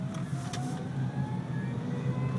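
A Wheego Whip electric car drives along with a steady, moderately loud low road and motor hum that holds for a couple of seconds. Faint higher whine lines sit above it, and nobody speaks.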